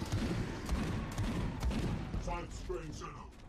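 Gunfire and booming blasts in the Space Hulk: Deathwing video game, a dense rolling barrage of shots and thuds that runs throughout, with a voice talking over the combat near the end.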